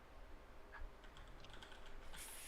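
Fingers type on a computer keyboard during a podcast, producing a run of faint, quick key clicks against a quiet room hiss.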